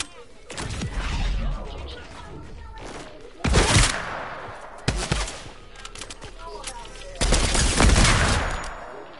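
Sniper rifle fire in a shooter video game: several loud, sharp shots spaced a few seconds apart, each with a booming, echoing tail, and other gunfire and game noise in between.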